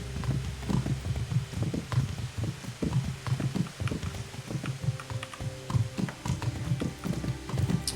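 Horse hooves clip-clop steadily in Kingdom Come Deliverance as a rider travels through a wood in medieval Bohemia, a regular galloping rhythm that runs close and clear for the whole stretch, with faint background game ambience.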